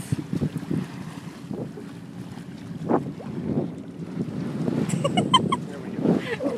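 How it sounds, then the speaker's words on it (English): Wind gusts and buffets the microphone aboard a sailboat under head sail only, with a steady low rush of water and rigging noise and a few faint clinks near the end. "We got great wind."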